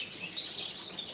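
London Fancy canaries chirp in a mid-moult group, a bright, continuous high twittering of several close birds with quick overlapping notes.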